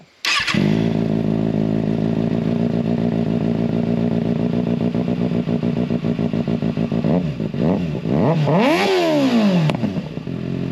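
A 2024 Kawasaki ZX6R 636 sport bike fitted with a slip-on exhaust cranks and fires up, settling into a loud, steady close-range idle before a few sharp throttle blips rise and fall near the end.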